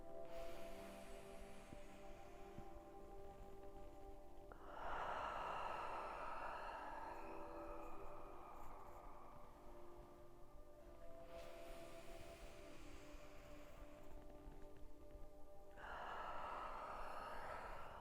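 Slow, audible exhales during a yoga class, long breaths of air rising and fading in a calm rhythm, two distinct breaths several seconds apart, faint and close.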